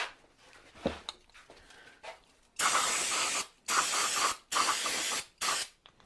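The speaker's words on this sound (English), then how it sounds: "I'm going to hit them with some Walmart Special Super Tech Parts Cleaner" Super Tech aerosol parts cleaner is sprayed onto engine cylinder walls of a sports car in four loud, close hissing bursts of about a second each, after a few quiet knocks and handling noises.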